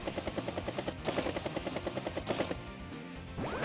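A helicopter unit in the Advance Wars video game makes rapid, rhythmic rotor chops at a loud, even level, ending with a short rising synthetic sweep.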